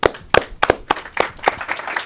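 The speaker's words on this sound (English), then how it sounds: "I got to clap" A few sharp hand claps spaced irregularly, loud and close, with no talking over them, during a live celebrity guest interview event.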